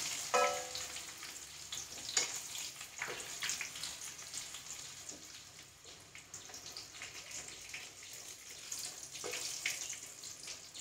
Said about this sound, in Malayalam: എന്നിട്ട് പപ്പടം അങ്ങോട്ട് കാച്ചിയെടുക്കാം.